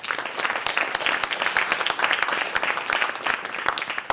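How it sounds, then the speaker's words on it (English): Audience applauding at a library talk series event, a steady even wash of many hands clapping, moderately loud and sustained with no talking. "let's have a round of applause for them as well"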